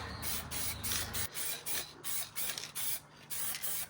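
Aerosol spray paint hissing in repeated short bursts onto car brakes, each spray a few tenths of a second with brief gaps between, close and fairly quiet, with a low hum fading out early.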